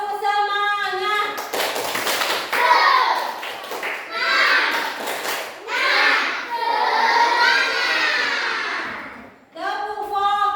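Children in a classroom do a rhythmic clapping chant, bursts of group hand claps mixed with loud chanting voices. The pattern runs in several phrases with short pauses, and an adult's voice is heard at the start and end.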